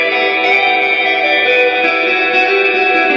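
Guitar played through an Electro Harmonix Cathedral pedal on the Holy Grail setting blooms into a dense, bright shimmering reverb, sustained chord tones swelling and smearing together, loud and upfront without speech.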